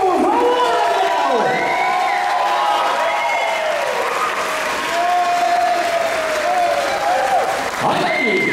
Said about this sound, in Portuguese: Palmas pro Biel!